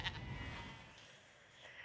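Sheep bleating at the seaside, a short cluster of calls near the start over a faint, steady outdoor background, then softer bleats trailing off.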